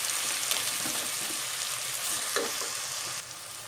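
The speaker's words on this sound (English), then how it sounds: "Stir fry your onions until they change colour." Onions and meat stir-frying in a pan for a Turkish dried bean and meat stew give a steady, dense sizzle with soft stirring scrapes, close and even throughout.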